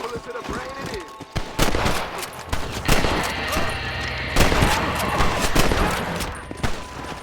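Gunfire in Red Dead Redemption 2, several sharp close shots cracking irregularly over a few seconds amid game ambience and clatter.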